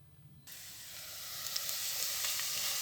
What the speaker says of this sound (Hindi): अब इसमें हम पहले हमारे प्याज को हल्का सा रोस्ट कर लेंगे